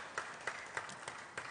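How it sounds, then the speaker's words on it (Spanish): An audience at a live show applauds the performers with a thin spread of clapping. Several distinct louder claps land at a regular, roughly rhythmic pace, fairly quiet overall. "Un aplauso también para ellos,"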